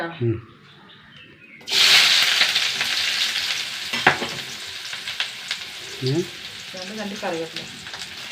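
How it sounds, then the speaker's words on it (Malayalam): Shallots sizzling in hot coconut oil in a pan, a sudden loud hiss that settles into steady frying crackle, with soft stirring clinks and a brief voice speaking under it. "കുറച്ച് വെളിച്ചെണ്ണ ഒഴിച്ച് കൊടുക്കും അഞ്ചാറ് ചെറിയുള്ളി"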